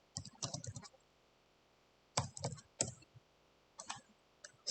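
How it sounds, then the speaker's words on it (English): Quick bursts of typing on a computer keyboard, close and quiet, with short runs of clicky keystrokes separated by pauses. "So I'm going to type boxmorph."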